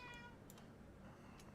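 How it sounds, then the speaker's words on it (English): A pet cat meows close by, with a couple of short, separate calls standing out against a quiet indoor background. "right now she's in my ear meowing again"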